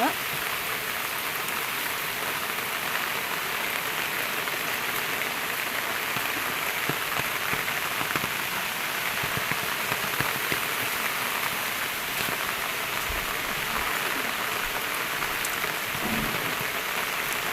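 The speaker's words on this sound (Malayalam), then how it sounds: "ഇവിടെ ഫുള്ള് മൊത്തം മഴയാണ്" Heavy rain pours steadily and densely throughout, a constant close hiss with scattered louder drops and no voices.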